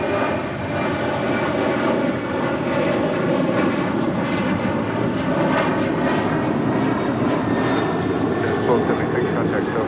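A Southwest airliner takes off from runway 25 right at LAX, its engines a steady, loud broadband roar that holds throughout with no pause. A tower radio voice talks over it.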